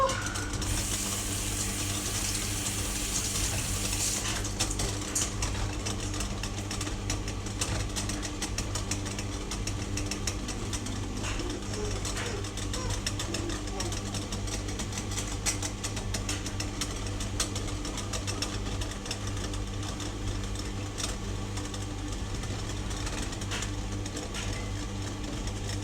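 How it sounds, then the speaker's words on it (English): A clothes dryer runs steadily for the whole stretch, a continuous low mechanical hum and rumble with faint tumbling clatter, at a constant level with no talk. "the dryer will be going for at least an hour now"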